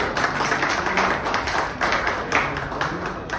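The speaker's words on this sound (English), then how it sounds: "give yourselves all a big clap" A room full of people claps together, a dense patter of hand claps that swells and dips in waves, loud and close.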